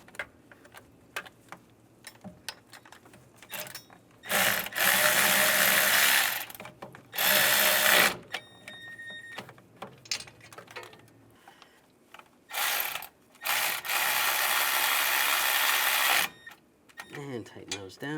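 Ratchet tightening valve cover bolts on a Ram 1500, bursts of fast mechanical clicking and whirring alternating with quieter handling clatter, close, with someone talking between them.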